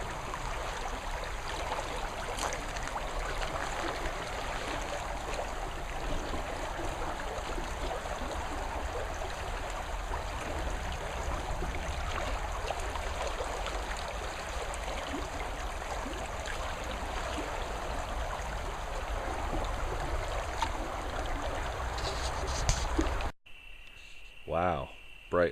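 A brook in Auburn, California flows with a constant close rushing babble for over twenty seconds, a faint steady insect whine above it, and it cuts off abruptly near the end.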